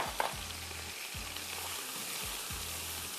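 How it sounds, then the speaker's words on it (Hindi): A cup of onions frying with chicken in a pan for pulao, a steady soft sizzle with low rhythmic stirring strokes repeating about every second, close and unaccompanied by speech. "सब आप इसको भूनेंगे कम से कम 5-7 मिनट"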